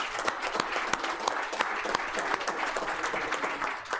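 Dense, lively applause from a county board meeting audience, many hands clapping rapidly and evenly throughout with a few crisp individual claps popping out.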